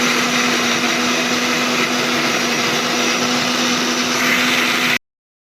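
An electric blender grinding ginger, garlic and green chillies into a paste, a loud, steady motor whir close by for about five seconds before cutting off abruptly.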